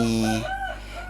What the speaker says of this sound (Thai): เสียงไก่ร้องอีก